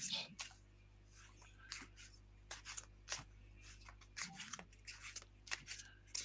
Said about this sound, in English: I always comment that, I really am shuffling.